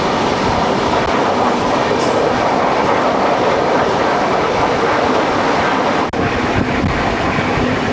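The Malabar Express runs on rails between Shoranur and Thiruvananthapuram: a loud, continuous rumble and roar of the moving train with faint rhythmic wheel clatter and some wind buffeting, heard steadily from close by, without speech.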